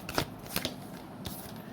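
Tarot cards shuffled by hand in a few quick riffling bursts, close and fairly soft, with brief pauses between the flurries of card noise.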